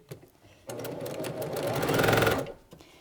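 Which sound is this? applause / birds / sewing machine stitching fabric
sewing machine stitching fabric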